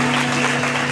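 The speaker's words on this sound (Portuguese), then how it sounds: "Você pode dar um aplauso para Jesus?" A church congregation applauds together during a Portuguese-language Easter service, a dense, steady burst of clapping filling the room.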